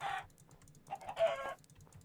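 Video-game chickens cluck and click in short rhythmic bursts, close and moderately loud, with brief pauses between the bursts.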